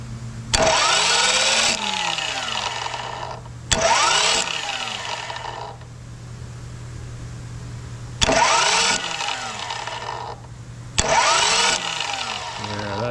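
A Detroit Silver 4-53T diesel engine, newly fitted with a ZF6 starter shimmed for two-thirds engagement, cranks in four separate bursts, each a whirring starter surge lasting about a second with a quieter idle hum between them.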